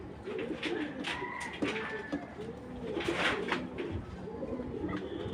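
A racing pigeon coos close by in repeated soft, throaty rolling calls that come in clusters across a few seconds, with faint background chatter.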